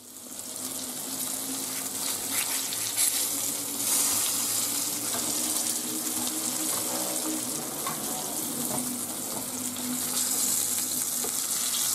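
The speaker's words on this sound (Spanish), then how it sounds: "Y que se fría bien." Salmon fries on a griddle, a continuous close sizzle with crackling bursts that holds steady throughout, no speech over it.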